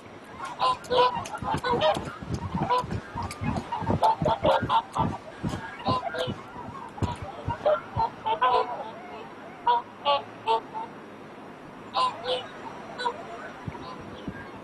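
Wild swans at Dalinur Lake in northern China give repeated loud honking calls in a dense, overlapping flock chorus, with bursts that come and go.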